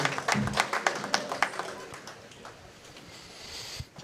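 A bowling-alley crowd at the 2025 PWBA Albany Regional claps for the women in the championship match, a short burst of distinct claps up front that fades into quiet lane-room ambience.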